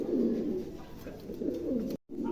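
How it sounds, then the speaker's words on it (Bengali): A large pair of Pomeranian pouter pigeons coo in low, rolling, throaty calls at close range, repeating throughout. There is a brief silent gap near the end. No one speaks. "প্রিয় দর্শক, এখানে একজোড়া পমিনিয়ান আছে, দেখেন বিশাল আকারের দানবের মতন সাইজ।"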